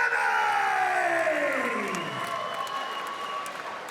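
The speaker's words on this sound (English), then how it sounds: "a warm round of applause for Edwin Electric Samy!" Crowd applause and cheering at a New Zealand kickboxing event as a middleweight fighter enters the ring, a steady wash of clapping filling the hall beneath an announcer's long, drawn-out call.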